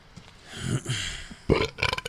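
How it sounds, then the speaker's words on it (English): A man lets out a few loud close burps, a long gurgling belch followed by shorter rough bursts, with nothing else around them. "I love when I burp and the smoke from the last bowl hit comes out with it"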